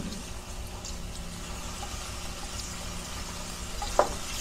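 Pork cuts from the shoulder with ginger fry in a pan for batchoy, giving a steady, soft broadband sizzle with a faint clink near the end.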